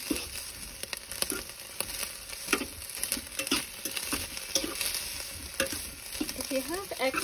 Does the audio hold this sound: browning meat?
yes